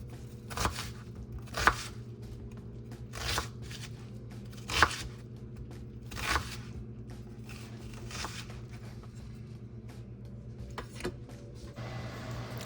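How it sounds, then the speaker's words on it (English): A knife chops an onion on a cutting board, dicing and slicing it, in a handful of sharp, spaced taps with quiet pauses over a low background hum. "I ended up doing half of it as diced onion and half of it as sliced onion"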